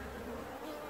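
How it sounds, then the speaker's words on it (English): Dense, steady buzzing of many bees flying fast around a hive in September, a continuous droning hum with no voices. "when they're flying fast, and they're zipping back and forth like this, like wasps"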